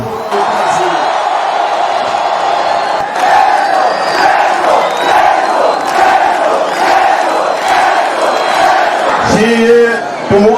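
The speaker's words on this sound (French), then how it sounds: "Applaudissons pour le peuple." Large crowd at a political rally in Makala, Kinshasa, roaring and cheering with shouted, chant-like voices and scattered clapping, loud and sustained for about ten seconds before a brief dip near the end.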